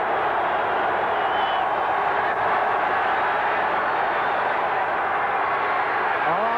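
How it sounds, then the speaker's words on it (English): Stadium crowd at a 1985 Washington Redskins at Pittsburgh Steelers game roaring to urge on the defense, a dense, steady wall of far-off noise that fills the whole stretch without letting up. "the crowd exhorting the defense"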